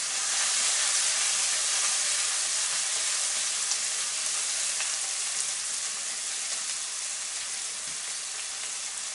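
Steady, bright sizzling of ackee and saltfish frying in a pan, a continuous crackling hiss that carries on without pause and eases slightly toward the end.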